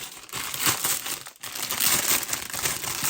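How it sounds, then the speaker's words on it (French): Plastic packaging from a Shein clothing haul crinkling and rustling continuously with one brief pause, close and fairly loud, with no talking. "Je vous épargne le bruit du plastique."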